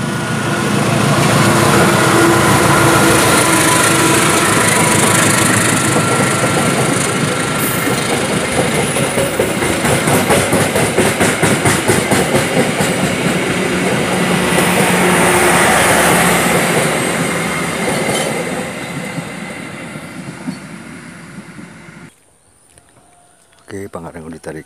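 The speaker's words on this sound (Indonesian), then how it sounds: "Ditarik oleh lokomotif CC 206-1503 JNG." Passenger train hauled by a CC 206 diesel locomotive rolls past close by, a loud sustained roar with rapid clickety-clack of wagons over rail joints, fading near the end; a voice talks over part of it.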